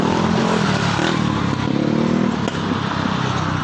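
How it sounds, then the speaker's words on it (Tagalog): A motorcycle engine drones close by, steady and loud with a slight shift in pitch as it passes; no talking. "Brum-brum lang ng ano, motor"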